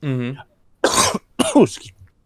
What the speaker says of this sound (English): I'm getting overexcited and coughing. My excited cough.